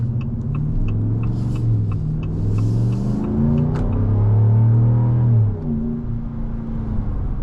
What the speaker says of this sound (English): You just cannot get over that wonderful, wonderful HEMI V8 sound that you get in this truck.